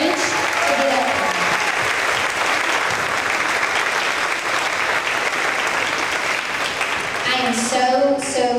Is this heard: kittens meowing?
no